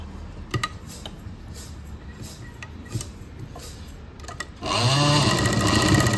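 A sewing machine starts up near the end after soft handling clicks of fabric, stitching a fall onto a saree with a loud, rapid, steady mechanical whir up close.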